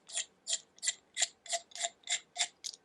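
A threaded aluminum bench dog clamp post with a knurled grip is screwed in by hand, making nine evenly spaced, faint, sharp clicking ticks like a ratchet, close by and with no voice.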